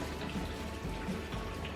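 Water from boiled potatoes pours out past a pot lid held with a cloth, a soft, continuous splashing rush at low volume with no talking.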